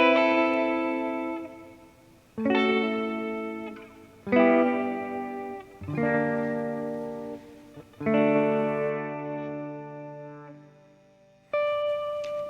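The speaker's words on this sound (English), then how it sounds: "Now, we've got the amp with the delay and reverb." Electric guitar chords through an amp with a delay pedal feeding its built-in reverb are strummed one at a time, each ringing out and decaying slowly, ending on a single clear note.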